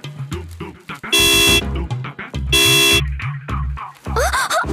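A car horn honks in two long, loud blasts with short beeps between them, and someone speaks over the traffic on a busy neighbourhood street.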